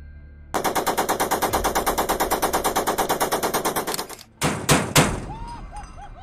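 An M242 Bushmaster 25mm chain gun fires a loud, steady burst of rapid, evenly spaced shots for about four seconds, followed by a few separate heavy booms and echoes.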